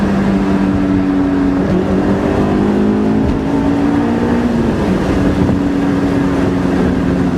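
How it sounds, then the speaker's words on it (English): A loud Honda S2000 sports car engine drones steadily, its pitch jumping up in a couple of quick throttle blips as it shifts down from fourth to third gear. "listen to the blip throttle downshift here"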